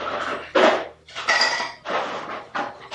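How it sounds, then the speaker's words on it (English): Ice cubes clatter into a glass for an iced shaken espresso, with several loud, bright clinking bursts in quick succession, close up and with no talking. "I'm going to put some ice."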